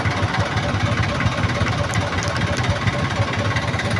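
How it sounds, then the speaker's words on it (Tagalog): Motorcycles idle and rumble in slow traffic in San Juan, Manila, a steady close engine chug with pulsing mid-low vibration and faint street noise around it. "Ating mga motor dito na sa ating dinadaanan guys."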